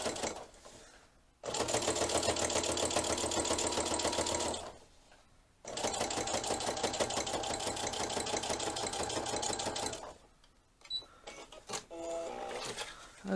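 A sewing machine runs a long basting stitch in two loud, fast mechanical bursts of rapid needle clatter, separated by brief pauses, then stops with a few faint clicks.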